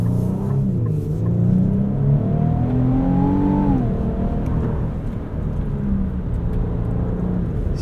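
A 2025 Infiniti QX80 Autograph's 3.5-liter twin-turbo V6 pulls hard through its 9-speed automatic, the engine note rising steadily, dropping at a shift, then settling into a loud, continuous rumble heard from inside the cabin.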